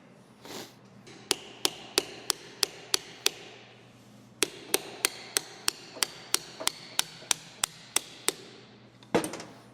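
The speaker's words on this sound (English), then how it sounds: "Don't worry, Snap-on. It is a striking tool." A striking tool, a Snap-on hammer, working on a CJ-5 drivetrain, delivering two quick runs of about ten evenly spaced sharp metallic blows each, close and loud against a quiet background hum.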